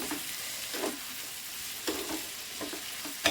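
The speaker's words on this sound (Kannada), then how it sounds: "ಕರಿಬೇವು ಸ್ವಲ್ಪ ಮೇಲೆ ಹಾಕ್ಕೊಳ್ಳಿ ಫಸ್ಟೇ ಹಾಕ್ಕೊಳಕ್ಕೆ ಹೋಗ್ಬಿಡಿ ಸ್ವಲ್ಪ ಇವಾಗ ಆಯಿಲಲ್ಲಿ ಹೀಗೆ ಫ್ರೈ ಆಗಲಿ ಚೆನ್ನಾಗಿ" Curry leaves fry in hot oil with a soft continuous sizzle, punctuated by several short scraping stirs spread through the clip.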